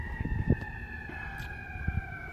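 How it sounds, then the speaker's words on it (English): Emergency vehicle sirens wail steadily in the distance, a faint continuous tone over low rumbling traffic and scattered knocks, with no speech. "there's sirens"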